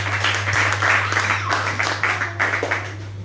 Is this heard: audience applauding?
yes